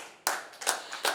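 A church congregation claps during an evening service, with several quick bursts of hand clapping following one another, fairly close.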